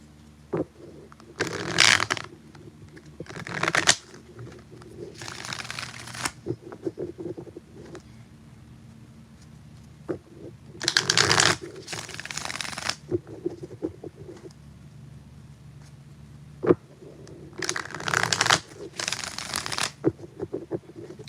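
Tarot cards shuffled by hand in several bursts of papery riffling and shuffling, separated by quieter pauses, close and fairly loud.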